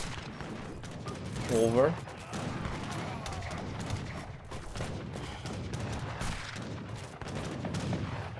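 Mortars fire amid the clatter of battle in Age of Empires III, with mechanical thuds and booms layered over continuous game noise while a voice talks over it.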